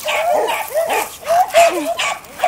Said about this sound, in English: That dog here, he just wants all my attention and jumping on me.